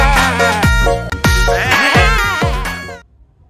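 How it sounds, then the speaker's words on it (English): A toy sheep gives out loud, close bleats, several quavering baa calls in a row lasting about three seconds before cutting off into near silence. "This is a sheep."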